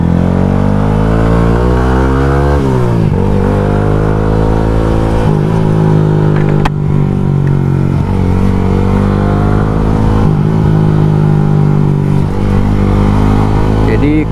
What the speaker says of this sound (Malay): Sekarang ni aku nak test dulu motor ni.